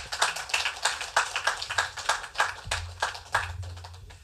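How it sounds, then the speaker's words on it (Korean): Audience applause at a church eighth-anniversary thanksgiving service in Incheon, welcoming a guest speaker; steady, moderately loud clapping from a crowd with no talk over it. "박수로 우리 모시겠습니다."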